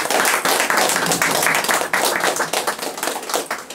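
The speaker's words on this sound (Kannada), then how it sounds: "ಅವ್ರಿಗೆ ಒಂದು ಚಪ್ಪಾಳೆ ಇರಲಿ." Audience at a community gathering applauding, dense, loud clapping from many hands carrying on steadily throughout, with no talk over it.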